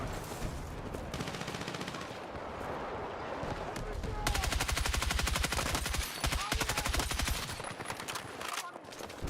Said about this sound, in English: as my teammate fires literally right next to me